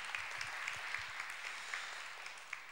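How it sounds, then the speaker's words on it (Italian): Audience giving applause for young artist Andrea Amara at a talk, a fairly soft, steady patter of clapping from a modest crowd, with a few sharper claps standing out. "Vi chiedo un applauso per questo giovane ragazzo"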